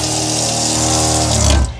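Tap in a camper van fed by a 12 V pump, water running in a steady close stream with a faint pump hum, then a brief splashing surge before it stops.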